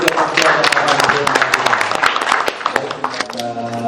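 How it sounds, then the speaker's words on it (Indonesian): Dense clapping from an audience at a pension-benefits question-and-answer meeting, steady and loud throughout, with a voice speaking over it. "kita kasih tepuk tangan dulu"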